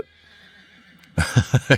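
A horse in good condition gives a loud, close neigh at a motoring event, a quiet stretch giving way to three strong pulsing whinny bursts near the end.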